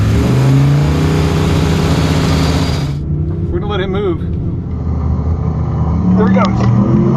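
A turbocharged drag truck engine at a quarter-mile drag strip roars loudly, spooling boost before launch, then cuts sharply and rises again in a rising, whining rev as it pulls away, fairly close.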